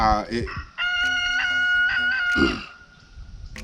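A rooster crows once, loud and close, its drawn-out call lasting a few seconds, with a little speech at the start and end.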